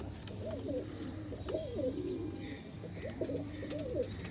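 Pigeons coo softly in a low, throaty, repeated rolling pattern, several calls in a row against quiet background noise.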